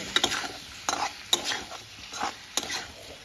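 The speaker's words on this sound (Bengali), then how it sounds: "নিয়ে এবার ভালোভাবে সব কিছুকে এবার কষিয়ে নেব।" Spices with chili powder for a fish curry with drumsticks are stir-fried in a pan, a light sizzle under several sharp scrapes and clinks of a spatula against the metal, spaced irregularly, close and fairly loud, with no talking.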